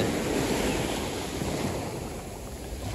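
Sea waves breaking on a quiet, nearly empty beach in Turkey in January, a steady broad wash of surf with some wind, heard alone without voices.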